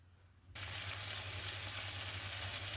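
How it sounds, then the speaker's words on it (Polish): Eggs and tomatoes suddenly begin to sizzle in a hot pan, a steady crackling fry that starts after a brief quiet moment and continues evenly. "i przystępujemy do smażenia."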